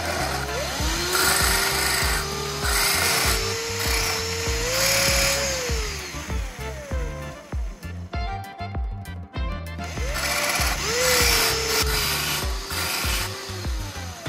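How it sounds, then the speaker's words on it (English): A metal nail head being sharpened on a rotary tool or grinder, a whining tool pitch that dips and rises under load with gritty rasping contact, steady and close, pausing briefly midway before grinding resumes. "The head of the nail is slightly sharpened to create a smaller, more focused contact point"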